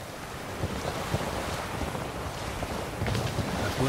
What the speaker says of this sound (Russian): Отклонись немножко от ветра, у тебя парус хлопает.